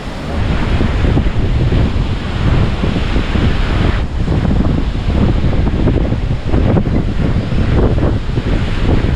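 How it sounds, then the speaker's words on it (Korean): Big ocean waves break on a Sri Lanka beach in a loud, continuous roar of surf, blended with heavy wind buffeting close to the microphone. "Wave is very big."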